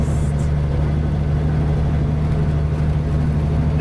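A Toyota Land Cruiser BJ45/FJ45 climbs a steep grade in four-wheel drive with a steady, loud low engine drone and a constant rumble from inside the cab.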